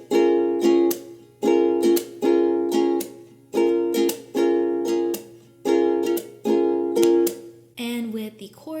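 Ukulele strummed with a strum-and-slap pattern on open strings without chords, a steady repeating rhythm of bright strums and percussive slaps, close and clear with no voice.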